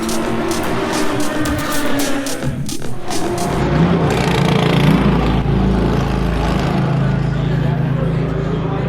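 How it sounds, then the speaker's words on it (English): A Corvette race car engine roars up close, revving hard and then pulling away at high rpm as it leaves the pit lane, loud and continuous. "That's the sound of a Corvette leaving the pit lane."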